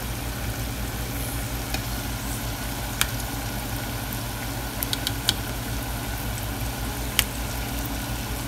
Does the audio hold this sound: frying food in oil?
yes